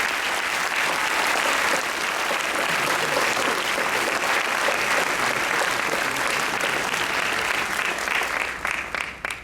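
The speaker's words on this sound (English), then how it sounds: "Let's give her a round of applause." A graduation ceremony audience breaks into sustained, dense applause that stays loud and even throughout, then begins to thin into scattered claps at the end.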